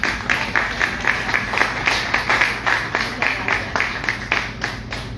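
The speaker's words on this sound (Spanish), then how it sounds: "para quien yo pido el primer aplauso de la tarde" Rhythmic clapping from an audience at a book presentation honouring author Ana Larraz, steady close claps in a quick regular pulse for a few seconds.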